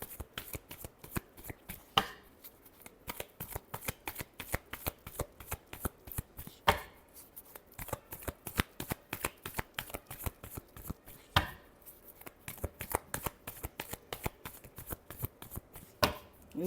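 Tarot cards are shuffled by hand in quick riffling bursts and slaps, a rapid irregular patter of sharp clicks continuing for the whole stretch, close and crisp, with no voice.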